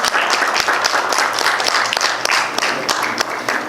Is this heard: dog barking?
no